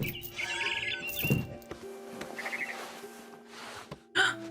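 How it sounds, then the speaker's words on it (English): A barn swallow chirps in the video game What Remains of Edith Finch, a few short high tweets scattered over quiet game ambience, with a gasp-like breath and a brief louder burst at the end. "It was a barn swallow going back to her nest."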